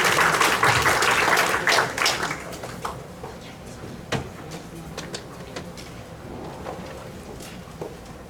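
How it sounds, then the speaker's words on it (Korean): An audience in a lecture hall applauds to welcome a Dongguk University Buddhist studies professor at an academic conference, a dense burst of clapping that fades into scattered claps and room noise. "큰 박수로 맞이해 주시기 바랍니다"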